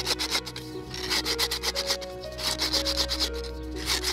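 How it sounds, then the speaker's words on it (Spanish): Rhythmic rasping strokes of sandpaper rubbing against the cut edge of a PVC pipe, quick back-and-forth passes close up, with no talking. "Vamos a lijar los bordes de ambos extremos"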